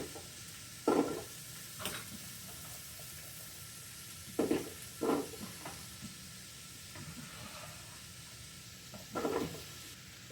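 Vegetables sizzle in a slow cooker's saute function, a steady low hiss broken by a few louder stirring bursts and clatters, close by with no talking.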